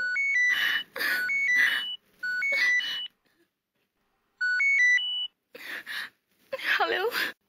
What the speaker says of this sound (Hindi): मैडम किसी का फोन आ रहा है।